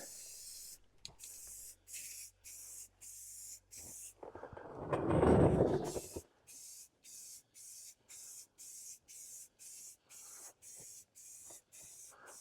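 A rattle can of black spray paint is sprayed onto a Duramax diesel exhaust. There are rapid regular clicks of the can being shaken, then one loud hissing burst of spray lasting about two seconds, then more shaking clicks, all close up with no talking.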